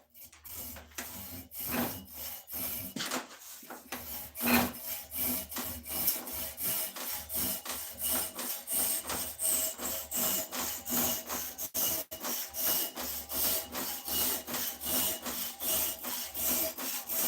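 Wood being hand-sawn for a mountain man axe handle, with steady back-and-forth saw strokes rasping through the grain in a close, even rhythm that carries on throughout, without any talking.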